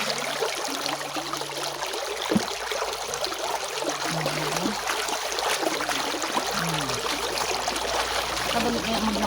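Clean river water flowing and trickling steadily close by, a soft continuous wash with faint low tones underneath and no talking.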